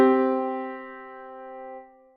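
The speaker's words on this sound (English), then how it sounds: "The power chord is also commonly called a dyad," One power chord of just a couple of notes, struck once and left to ring steadily, then fading out near the end; nothing else is heard.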